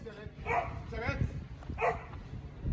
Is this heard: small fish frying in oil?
no